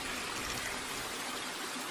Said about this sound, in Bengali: ঝর্ণার আওয়াজ কি তোমরা শুনতে পাচ্ছ?